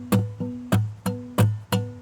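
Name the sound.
acoustic guitar strum pattern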